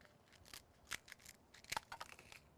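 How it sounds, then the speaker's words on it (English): Scissors snip toasted dried chilies in a few quiet, crisp cuts with small crackles, faint and close, with no talking. "I'm just gonna take some scissors and snip those chilies."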